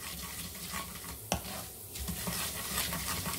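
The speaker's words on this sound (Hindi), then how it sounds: "अब हम इसे कुछ देर तक भून लेते हैं, जब तक ये दाल थोड़ी सी ब्राउन हो जाए" Chana dal and urad dal roasting in a pan for masala dosa filling, a steady soft frying hiss with scraping stir strokes and one sharp clink of the spoon against the pan.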